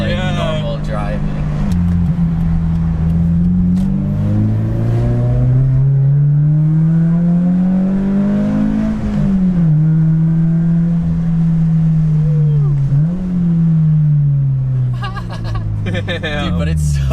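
A Subaru BRZ/Toyota 86 engine with a single-exit exhaust hums at steady low revs, rising and falling gently, with people talking over the muffled drone.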